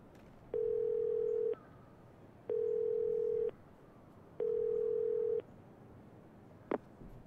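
A telephone tone in the video game Yakuza 0 gives three long, steady beeps of about a second each, evenly spaced by pauses, then ends with a sharp click.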